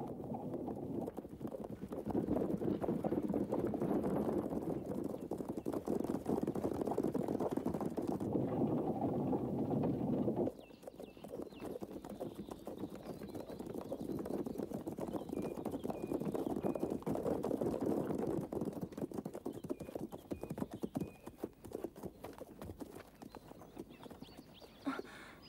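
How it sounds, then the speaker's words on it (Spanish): Soldiers on horseback approach with a continuous rumble of hooves that grows and fades, with wind and some outdoor noise, in a 1934 film. "Parecen soldados a caballo."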